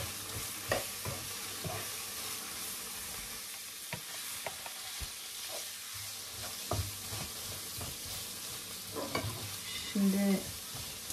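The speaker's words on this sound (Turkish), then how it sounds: "Salçanın ekşi kokusu çıkasıya kadar kavuracağım" Tomato paste and onions frying in a pan for Izmir köfte, a soft continuous sizzle with occasional stirring knocks and scrapes, fairly quiet and without speech.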